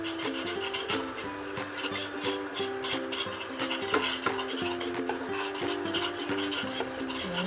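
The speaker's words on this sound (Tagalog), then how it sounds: "So, halu-haluin lang po natin siya." A utensil stirs homemade gravy in a pan, scraping and clinking steadily in close, continuous rhythmic strokes.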